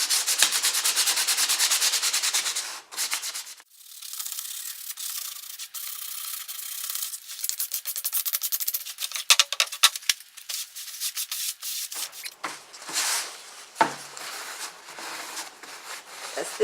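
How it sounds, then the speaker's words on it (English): Wooden furniture is hand sanded in a few long bursts of scratchy rubbing strokes, with brief pauses between passes, close and fairly loud with no talking. "I just feel a little better if I just sand it just a little bit."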